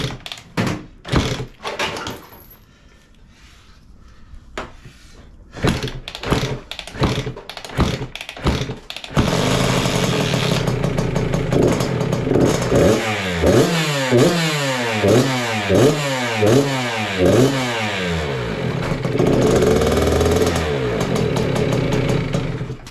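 A cold Suzuki RM 65 dirt bike with a choke on and carburettor trouble. Several kick-start attempts thump first, then the two-stroke engine catches and runs loud and close, revving up and down in rising and falling sweeps.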